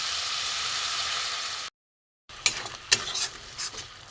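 Spice paste sizzles and fries in oil in a pan with a steady bright hiss, then after a brief gap is stirred, with scraping and clinks of a utensil over the quieter frying.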